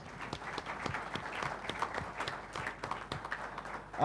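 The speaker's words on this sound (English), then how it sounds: "So big, energetic round of applause for them, please." A seminar audience gives the panelists a steady round of applause, dense clapping at moderate volume with no voices on top, lasting a few seconds.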